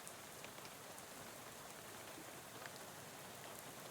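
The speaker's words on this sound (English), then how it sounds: "How about this rain, huh?" Steady rain in the video game Shadows Over Loathing, a dense, even patter of drops spread across the whole clip with no talk over it.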